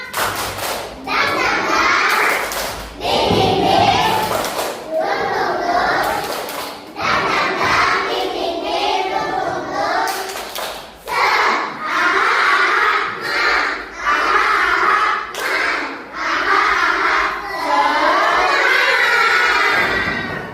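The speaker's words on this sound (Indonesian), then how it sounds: "kita tepuk semangat" Schoolchildren in an Indonesian classroom perform the tepuk semangat clapping chant, loud rhythmic group clapping and shouted chanting in bursts, with a teacher's voice between sections.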